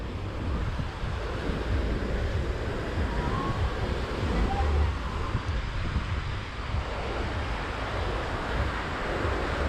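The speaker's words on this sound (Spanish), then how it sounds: "Pues así está la playa en este momento." Surf washes onto a Caribbean beach at Playa Mamitas in a continuous broadband rush, with wind buffeting the microphone steadily throughout and no clear voices.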